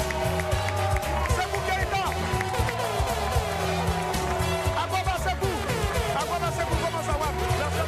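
A television studio audience applauds to welcome a guest on a talk show. The clapping is dense and continuous throughout, mixed with rhythmic music underneath.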